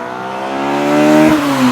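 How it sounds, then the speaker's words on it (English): Mapped Honda Civic Type R EP3 with a solid 3-inch exhaust makes a loud flyby, its engine note rising steadily as it nears, then a sharp pitch drop as it passes close and pulls away. "Let's get some more induction flybys."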